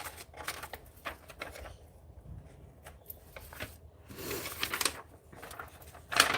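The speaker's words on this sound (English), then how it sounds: "I'm moving the paper through the scissors. I'm not moving the scissors." Scissors snipping through a paper sewing pattern as the paper is fed through the blades, a series of close, crisp cuts with short pauses in a quiet room.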